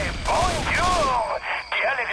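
Gunfire in the zombie shooter Left 4 Dead 2 on Xbox One, set in a swamp plantation, rings out as a dense fusillade of shots with a brief gap, mixed with game voices and effects.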